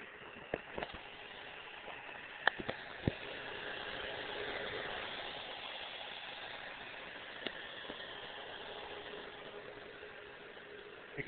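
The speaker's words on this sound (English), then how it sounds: "You can feel the fans blowing." Cooling fans whir inside a 17-inch 2.0GHz Core 2 Duo laptop that won't power up, a faint steady hiss broken by a few small clicks and taps nearby.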